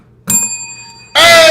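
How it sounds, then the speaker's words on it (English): A Lambo-style bell rung once, a bright sustained ring with clear harmonic tones that lingers for about a second before a loud burst of other noise cuts in. "the Leverage Show bell"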